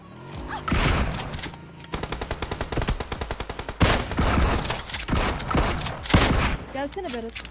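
Rapid rifle gunfire in a PUBG Mobile match, Kar98 shots among it: a dense, evenly spaced run of loud cracks and several heavier booms, with voices talking over the fighting.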